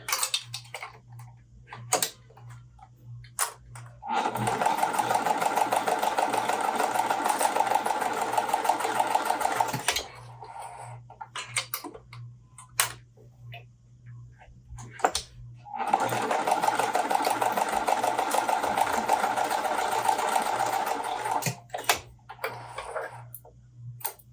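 A sewing machine stitches two cotton fabric rectangles at once in a quilting session, running in two steady sustained bursts with a low hum, separated by pauses filled with small clicks and handling noises, close and fairly loud.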